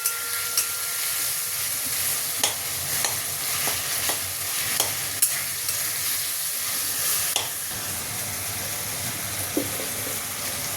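Spatula scraping and mashing tomatoes with chopped green chilli in a pan over steady frying sizzle, with several sharp clinks and scrapes spaced through the stretch; no voices.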